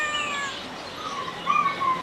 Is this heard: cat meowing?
yes